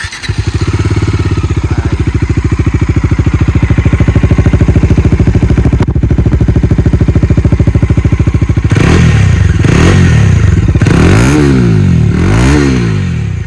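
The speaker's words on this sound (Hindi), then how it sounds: "आपको अब इसके इंजन के हम एग्जॉस्ट नोट सुनाते हैं" A 2022 Bajaj Dominar 250 motorcycle idles with a loud, close, steady thumping exhaust pulse, then is revved several times in quick bursts that rise and fall.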